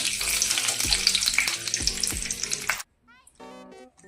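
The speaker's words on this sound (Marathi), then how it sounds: "चला मग मिरची तळून घेऊया" Green chillies sizzle and crackle in hot oil for street-style vada pav, a loud, close frying hiss with bubbling pops. It cuts off abruptly partway, followed by faint, brief tonal sounds.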